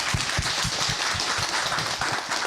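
Dense, steady applause from an audience at a Korean business talk in honour of three company representatives, a wash of many hands clapping throughout without pause.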